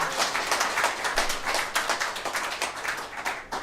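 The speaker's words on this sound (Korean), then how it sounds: "하모니카 연주해주신 구동훈 청년에게 큰 박수로 응원해 주시기 바랍니다" Enthusiastic applause from an audience after a harmonica performance at a Korean book-launch event, with distinct overlapping claps in a lively, uneven rhythm, fairly close and sustained.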